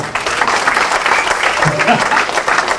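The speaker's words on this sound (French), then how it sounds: "Est-ce qu'on peut acclamer le Seigneur?" A church congregation applauds at a French-language sermon, steady dense clapping filling the room throughout, with a few voices calling out over it.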